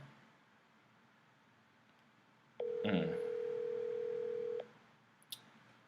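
A telephone dial tone sounds steady and clear on a phone line for about two seconds, then stops, with a faint click afterward and no talking.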